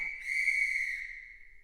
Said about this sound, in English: he gave them a toot on his whistle now that he felt better